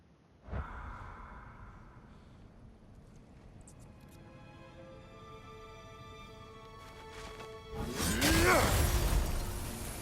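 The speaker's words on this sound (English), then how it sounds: "Why do you yawn?" A character in God of War Ragnarök lets out a long, breathy yawn near the end, loud and close, after several seconds of low ambient hum and soft tones.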